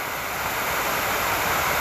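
Anderson Falls pours in a constant broad rushing roar of falling water on a creek, loud and steady throughout with no voices.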